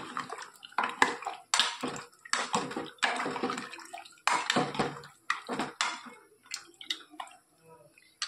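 A spoon scrapes and clanks against a cooking pot while stirring a tomato and potato curry, irregular close metallic strokes with wet mixing sounds, separated by short pauses.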